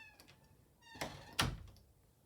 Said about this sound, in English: now I close it again